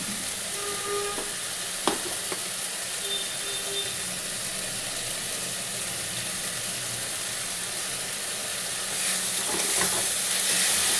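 Egg curry masala with turmeric and salt fries in a pan as a constant low hiss and sizzle. A single utensil knock stands out, and the sizzle swells slightly near the end. No one speaks.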